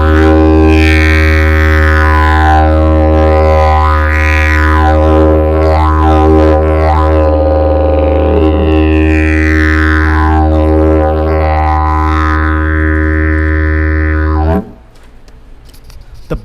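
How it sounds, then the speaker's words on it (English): A didgeridoo played by buzzing lips drones loud and steady, its deep fundamental holding while the overtones sweep and shift in slow vocal-like waves, then stopping abruptly near the end. "The buzzing lips creates a vibration that travels through the didgeridoo and creates that amazing sound that we all hear."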